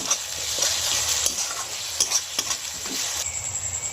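Ghugni masala with ginger-garlic paste sizzles in a pan while a spoon stirs it, giving a constant hiss with repeated sharp scraping clicks up close and no voices.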